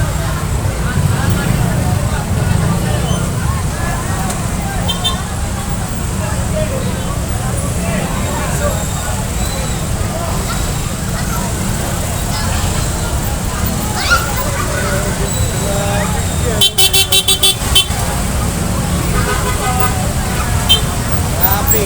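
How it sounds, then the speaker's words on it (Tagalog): Heavy highway traffic on Quirino Highway in Novaliches, with a broken-down bus stalled mid-road: a constant low engine rumble and road noise, a passing vehicle rattle, people talking nearby over it. "Traffic yan. Ito yung bus. Nasa gitna."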